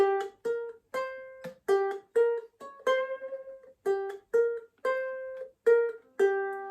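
A plucked ukulele riff of short, bright notes and chords, played at a moderate pace with brief gaps between phrases, close and clear, no voices.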